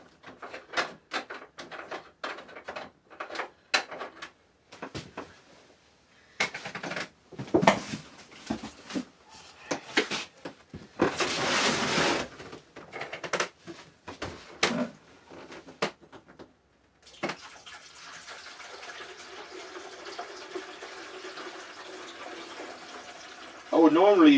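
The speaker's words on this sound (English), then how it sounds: "Let's put some water in there." Water pours steadily into a Camco portable travel toilet with a rising gurgle, following a stretch of clattering, handling noises and short bursts of sound.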